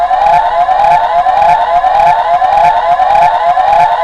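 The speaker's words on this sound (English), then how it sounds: "got that nice police siren" A small electronic siren from a Power Rangers SPD Delta Squad Megazord toy police car wails in a fast, repeating up-and-down cycle, loud and close, with a thin toy-like tone.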